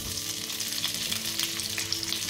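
Chopped peppers sizzle and fry in olive oil in a pan over medium heat, a steady close crackling hiss with small pops and no voices.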